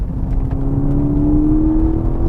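A VW Mk6 Golf GTI Edition 35 with DSG gearbox drives hard through corners, its engine holding a steady loud drone whose pitch slowly rises, heard from inside the car with no talk.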